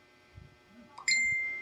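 A bright notification bell ding rings once, clear and close, after a brief soft lead-in, and its tone holds and slowly fades.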